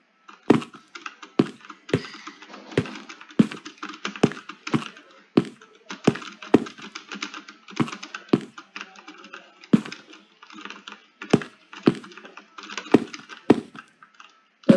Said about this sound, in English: That's what I get for clicking every button on my keyboard.